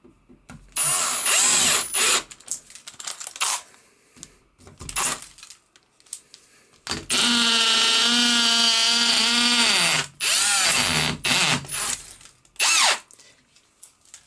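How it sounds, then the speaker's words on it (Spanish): A power drill with a 1/4 inch bit bores a hole for mounting folding shelves, heard as several loud bursts with one long sustained run in the middle, broken by clicks and handling noises between bursts. "Y ya con una broca de 1/4, vamos a hacer la primera perforación."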